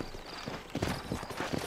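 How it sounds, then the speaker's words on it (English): Horses' hooves clip-clop in Red Dead Redemption, a run of quiet, fairly close hoofbeats in an uneven rhythm that grow busier partway through, with no talk over them. "You ain't gonna find sturdier horses than these in all of New Austin."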